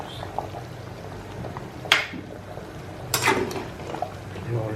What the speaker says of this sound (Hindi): और क्या आवाज़ आ रही है इसके पकने की, जो बुलबुले उठते हैं